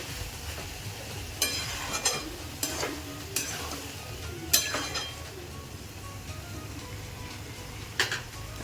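A spoon stirs tomato paste into chicken or mutton kheema in a pan, with scattered scrapes and clinks against the metal over a faint, steady sizzle, fairly quiet overall.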